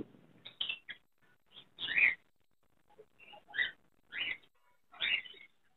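Fischer's lovebirds, a blue female paired with a cobalt male, chirp at a Sunday bird market in Chichawatni with a series of sharp, high, separate calls and short quiet gaps between them.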